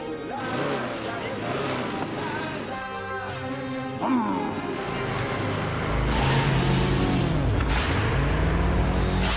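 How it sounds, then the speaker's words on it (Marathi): A motorbike kicks into life and revs up and down, its engine rising and falling under background music and people talking. "बाईक स्टार्ट कर."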